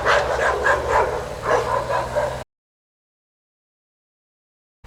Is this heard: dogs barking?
yes